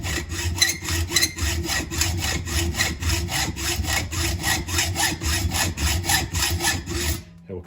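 A handsaw cuts through wood clamped in a vise, making long, steady back-and-forth strokes in an even rasping rhythm, close and clear, until the sawing stops abruptly at the end.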